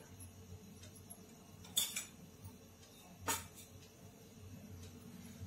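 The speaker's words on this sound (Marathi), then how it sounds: "आणि हे असं छान मिक्स करून घ्यायचंय।" A spoon mixes flour with oil in a bowl, giving faint scraping over low background noise and two brief metallic clinks.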